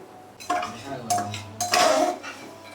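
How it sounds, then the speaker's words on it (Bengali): Meat being sautéed and stirred in a pot, heard as several bursts of metallic scraping and clinking of a utensil against the pot, with a low steady hum beneath. "এই যে মাংস কষানো চলছে।"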